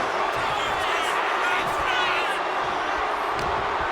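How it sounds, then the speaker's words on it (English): Arena crowd roaring in WWE 2K26 wrestling, a dense continuous wash of cheering and applause with scattered thumps, steady and loud throughout. "Thunderous applause for these competitors"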